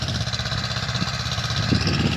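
A tractor engine chugging in a farm field, a steady rumbling mid-distance motor that grows slightly louder toward the end.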